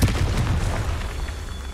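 A Confringo spell explosion bursts in a video game, a loud, dense boom with a rumbling low end that fades gradually over about two seconds.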